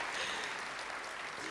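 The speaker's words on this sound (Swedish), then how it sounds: "Ja, en applåd." A theatre audience at a Nobel reading of Alice Munro applauds, thick continuous clapping heard close and unbroken, with no speech over it.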